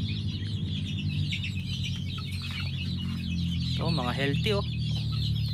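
Young gamefowl chicks, SBR and sweater crosses about two months old, cluck and peep steadily in a crowded brooder, with a burst of louder calls near the end and a voice speaking briefly under them.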